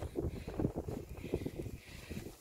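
Wind buffets a microphone outdoors in blustery weather during metal detecting, a steady low rumble with gusting surges throughout.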